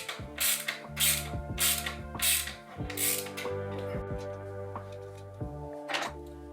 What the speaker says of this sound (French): Sortez deux des vis de fixation et montez-les en les mettant juste en contact.